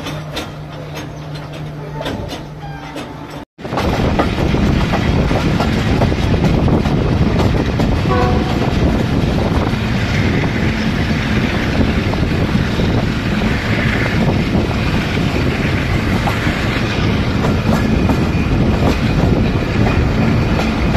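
Khyber Mail express train passing through Lahore near a level crossing, a steady loud rolling rumble of carriages with wind noise that starts abruptly after a brief quieter stretch and continues unbroken, with no voices.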